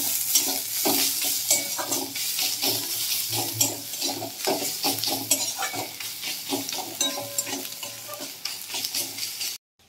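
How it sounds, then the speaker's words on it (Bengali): Onions fry with red chili and turmeric powder in a pan, hissing steadily while a spatula stirs in repeated scraping strokes, ending in an abrupt cut. "পেঁয়াজের সঙ্গে ভালো করে কষিয়ে নেব।"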